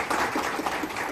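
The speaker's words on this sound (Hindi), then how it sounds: "इस बात के लिए उन्हें भरपूर तालियां देनी चाहिए" Brief burst of audience applause at an evening gathering of writers, a dense steady patter of many hands clapping at moderate level.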